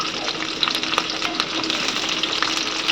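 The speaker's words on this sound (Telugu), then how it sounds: "ఇవి వేసి కొంచెం గోల్డెన్ కలర్ వచ్చేదాకా వేపుకున్నాము" Onions and green chillies fry in a pan with a steady, close sizzle and light crackles, without talk.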